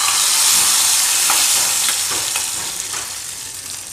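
Garlic tempering poured from a pan into tamarind-leaf dal sizzles loudly and steadily, a bright crackling hiss with occasional spits that slowly eases off over a few seconds, with no voices.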